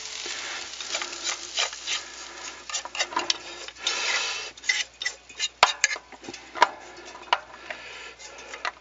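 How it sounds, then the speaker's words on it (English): Meat and noodles being scraped and spooned from a pan back into a bowl, with a run of close, soft clinks and scrapes of utensil on dishware in irregular bursts, no talk. "I'm going to put this back in the original bowl."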